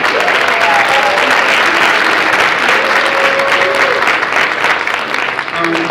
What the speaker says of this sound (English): And one last round of applause for class number 34